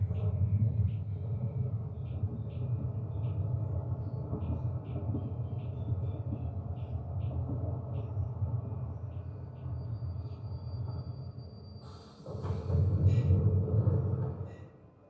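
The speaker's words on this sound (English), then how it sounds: "Subway in the middle of the desert." A subway train crossing a desert in a Nintendo Direct game trailer rumbles on steel rails at an even, moderate level, then swells briefly louder near the end.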